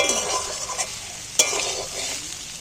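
Cauliflower frying in a pan for samosa filling, a steady close sizzle with the scrape and clatter of a spoon stirring the pieces, one sharp clink partway through.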